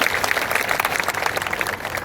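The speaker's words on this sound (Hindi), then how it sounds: "एक बार शंभू के लिए तालियां और बजा दीजिए" Audience at an All India Kavi Sammelan poetry gathering clapping for a poet, a steady, dense patter of many hands filling the hall.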